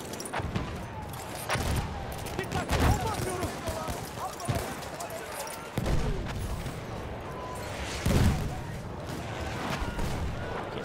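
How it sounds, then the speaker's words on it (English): Repeated sharp gunshots and booming blasts crack through a noisy Battlefield game scene, irregular bursts with a voice talking underneath. "Can't see through all the explosions."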